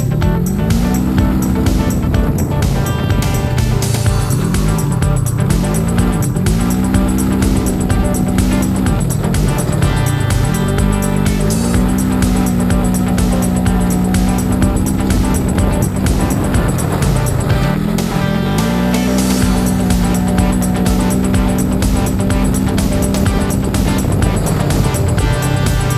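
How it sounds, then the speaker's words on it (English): Four-wheeler, ATV and UTV engines run loud and continuous at an outdoor rodeo, with revs rising and falling as the machines accelerate and slow through the course. "Right now we're having a four-wheeler and ATV and UTV rodeo."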